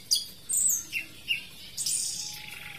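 An orange-headed thrush sings a few bright, whistled phrases and chirps, separated by short pauses, fairly clear against a quiet background.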